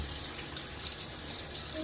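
A bathroom tap runs steadily and softly while a face is rinsed with water after a straight-razor shave, a quiet, even hiss with faint splashes and no talk.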